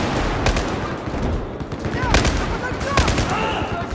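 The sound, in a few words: gunfire in the video game Battlefield 4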